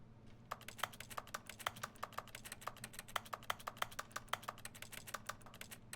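Keyboard typing sounds played by the video game The Stanley Parable: a quiet, rapid, fairly even run of keystroke clicks that continues for several seconds, with no voice over it.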